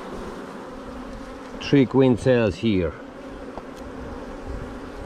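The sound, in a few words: honeybees buzzing while shaken off a hive frame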